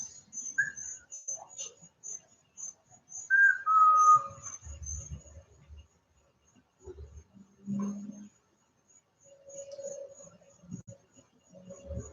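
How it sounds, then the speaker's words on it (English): Rachel whistles outdoors in short, clear tones: a brief note, then a longer sliding whistle, with quiet rustling and soft breathing sounds between them in an otherwise still setting. "Rachel's going to whistle"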